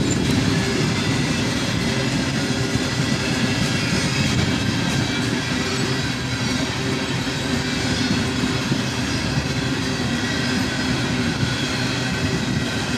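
A military freight train led by KCS locomotives passes close by, a loud continuous rumble and roar of rolling cars with faint clattering that holds steady throughout.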